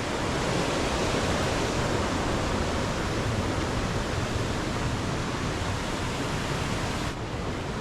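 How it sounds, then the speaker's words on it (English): A cascading waterfall and brook beside a bridge in Franconia Notch roar as a dense, constant rush of water, loud and unbroken throughout, with no voices. "on one side of this bridge is this beautiful cascading waterfall"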